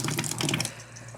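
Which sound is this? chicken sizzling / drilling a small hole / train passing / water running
water running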